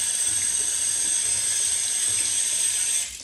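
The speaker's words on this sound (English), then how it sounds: "the brush washed off there" A shaving brush is rinsed under a running tap, a steady loud hiss of water splashing through the bristles that cuts off near the end.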